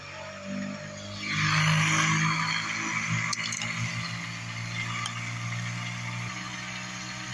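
A pulse motor with generator coils spins up, its hum rising after a second into a steady whirring drone with a faint rattle, holding near and fairly loud to the end.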